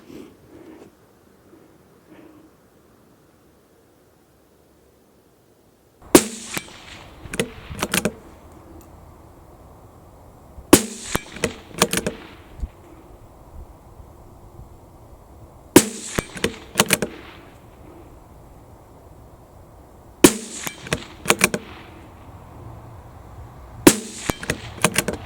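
A CZ 457 thumbhole laminate rifle in 17 HMR, rested on bags, fires sharp, loud single shots spaced several seconds apart, each followed by the clack of the bolt being cycled.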